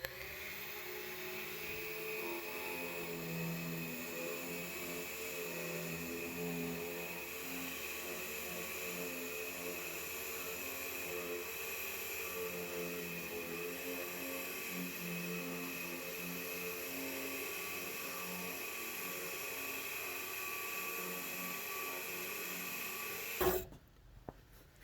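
A key cutting machine slowly cutting a 2014 Ford F150 key, a faint steady grinding whir that runs on evenly for most of the time before a few clunks as it stops.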